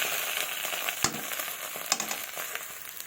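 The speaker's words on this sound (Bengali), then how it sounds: "এবার ভালোভাবে মশলাটাকে কষিয়ে নেব।" Spice paste of dried chilli, ginger and cumin frying with potatoes in a pan for a fish dish, a steady soft sizzle with a few sharp stirring clicks, close and alone.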